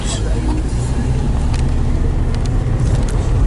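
A steady low engine rumble from a vehicle beside a KamAZ truck on a snowy road, droning continuously and close with a few faint clicks, while a person talks over it.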